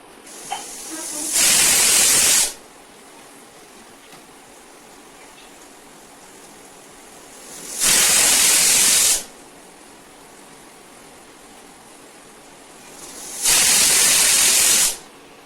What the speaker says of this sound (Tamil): பிரஷர் ரிலீஸ் ஆயிடுச்சு.